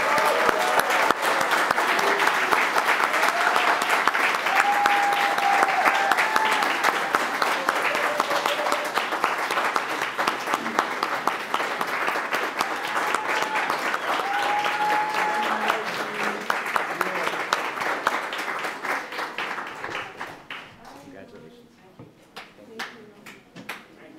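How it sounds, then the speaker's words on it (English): Sustained audience applause fills a naturalization ceremony for new American citizens at Arlington County Public Library, loud and dense for about twenty seconds before thinning into scattered claps and a fading murmur. "let's have one final round of applause for America's newest citizens"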